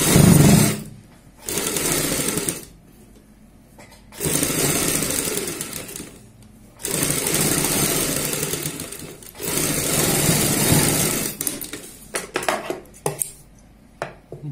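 A sewing machine stitches the neckline of a kurti in loud, steady bursts of several seconds each, broken by short pauses, with a quicker run of stops and starts at the end.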